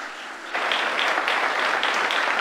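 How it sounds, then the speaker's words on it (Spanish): A church congregation claps for Christ during a sermon, starting softly and then swelling into steady, full applause with faint rhythmic accents, with no talking over it. "Aplauda a Cristo"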